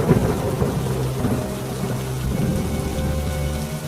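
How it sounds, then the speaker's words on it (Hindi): Heavy rain pours in a loud, steady wash while deep thunder rumbles and rolls beneath it, with no one speaking. "इस बारिश में हमारे घर डूब गए हैं"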